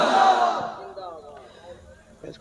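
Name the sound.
crowd shouting Allahu Akbar in response to takbir call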